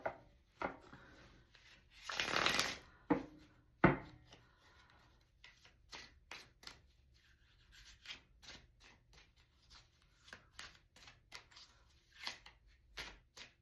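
Tarot cards being shuffled by hand: a quiet, brief burst of dense riffling, then scattered soft rubs, taps and card slides, with no talking.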